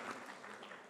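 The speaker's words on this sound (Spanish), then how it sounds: "a quien le damos un fuerte aplauso" Brief burst of audience applause at a panel event on open justice, a dense wash of clapping lasting under a second, steady and moderately loud with no voices.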